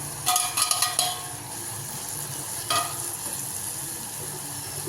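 Chopped ridge gourd drops into a pan of sautéed tomatoes, giving a few clattering stirs and knocks against the pan before a steady soft sizzle of frying carries on.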